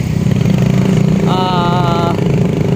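A motorcycle engine idles and rumbles steadily up close, loud and constant, with a short whining tonal sound rising over it midway; a voice is faintly present.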